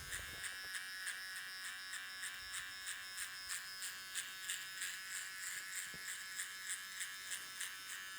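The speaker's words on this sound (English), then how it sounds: "Let's see if I could even try to blend this line with my trimmer." A hair trimmer buzzes steadily while blending a fade, a high thin electric whine with a faint pulsing as it moves back and forth, close and continuous with no talking.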